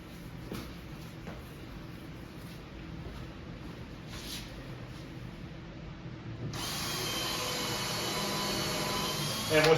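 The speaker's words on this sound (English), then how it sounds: "So I'm gonna go ahead and put the rest of these screws in now." A power drill drives screws into a Tapper arcade cabinet being restored, starting after a quiet stretch and whirring steadily and close for the last few seconds.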